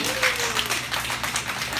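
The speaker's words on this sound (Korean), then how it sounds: "박수 한번 치겠습니다" A church congregation claps together during a Bible survey lecture, a short burst of dense applause with a faint voice or tone underneath.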